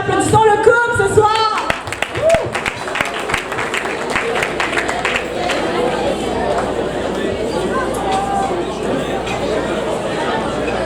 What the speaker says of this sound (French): applaudissons le couple ce soir